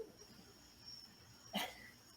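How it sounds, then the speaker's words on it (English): A dog gives one short, muffled bark from some distance away, heard alone against a quiet room hum. "Sorry, George is barking."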